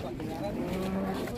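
A cow gives a short, low moo amid an agitated herd of loose cattle, the call brief and moderately close with background noise around it.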